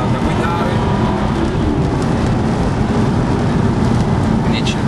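An Aston Martin V8 Vantage's engine roars loudly and steadily, a dense continuous rumble with road noise on a wet road, sustained for the whole stretch with no clear voices.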